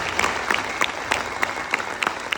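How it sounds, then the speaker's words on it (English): An audience at a motivational talk claps for their parents, a steady wash of applause with sharper individual claps standing out. "Clap for them."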